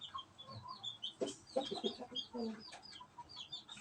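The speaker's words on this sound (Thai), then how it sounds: "อันที่สองนี้เป็นไก่แจ้ชบานะครับ" Chaba bantam chicken, a red bird, clucking in a short burst of calls, close and fairly faint, with no talk.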